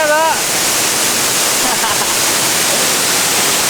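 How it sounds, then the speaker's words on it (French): A waterfall in Panama roars close by as a loud, continuous rush of broadband water noise, with a voice speaking briefly over it at the start. "Je suis pas loin d'être derrière la cascade, ça envoie du lourd, hein, ça fait du bruit."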